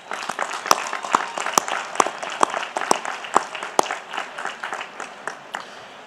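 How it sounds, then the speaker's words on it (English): A college commencement audience applauds graduate and doctoral degree candidates, with loud, sustained clapping and sharp individual claps standing out throughout. "Let's applaud them for what they've done"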